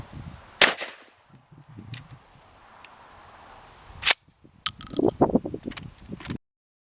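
A shotgun fires rubber buckshot into a ballistic gel block from about 10 feet: a sharp loud report, then a second bang, followed by clattering and handling noises.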